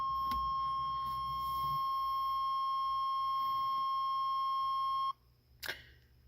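A steady, shrill electronic warning beep from a 1980s car, holding for about five seconds, then cutting off abruptly, followed by a brief click.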